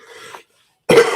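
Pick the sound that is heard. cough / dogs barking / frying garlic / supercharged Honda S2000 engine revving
cough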